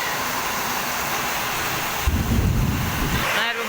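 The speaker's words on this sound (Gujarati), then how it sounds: "તો જો બહુ વરસાદ આવી રહ્યો છે. અને વીજળી પણ થાય છે." Heavy monsoon rain pours steadily in a loud, dense roar, and partway through a deep rumble of thunder swells beneath it.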